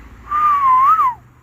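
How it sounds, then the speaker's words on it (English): A single soft whistled note sits near the mic, wavering gently in pitch and sliding up then down at the end, heard alone for about a second, with a faint engine hum beneath. "I'm just doing a little tiny whistling."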